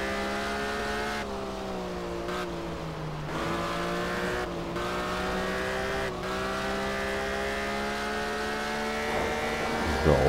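A car engine in the driving game Test Drive Unlimited holds a steady high drone on a long straight, with a few brief gear-shift dips in pitch and a slight swell near the end, and no talk over it.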